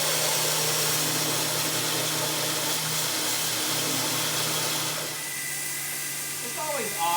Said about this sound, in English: so I'll use the grinder to put that in